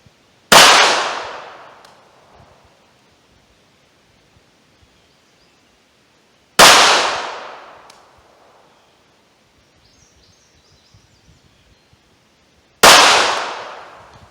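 Three sharp, loud gunshots from a Ruger LCP pistol firing Winchester white box 95-grain jacketed hollow point .380 ACP rounds, spaced about six seconds apart, each with a short decaying echo and near silence between.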